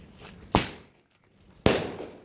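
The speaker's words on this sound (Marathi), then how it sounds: "त्यानंतर थोडे फटाके फोडले आणि खूप मस्ती केली" Two firecrackers burst about a second apart, each a sharp, loud crack that trails off into a fading rumble, with faint movement in between.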